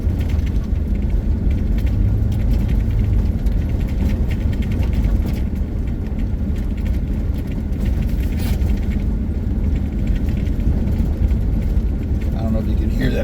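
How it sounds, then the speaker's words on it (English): Steady in-car road noise with low rumble while driving a bumpy road on the Bison Range West Loop near Missoula, Montana, with faint rattling mixed into the constant drone; a voice talks over it. "I don't know if you can hear that rattle, but it's starting to drive me crazy."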